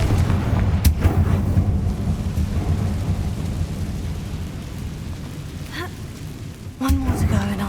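Confringo explosive spell fired in the Hogwarts Legacy video game, a sharp booming crack at the start followed by rolling rumble and another loud blast near the end, over steady ambient noise.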